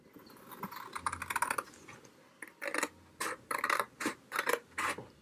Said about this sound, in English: I think I'm just going to cut it on that score line